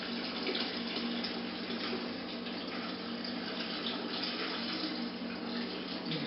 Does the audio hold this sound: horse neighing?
no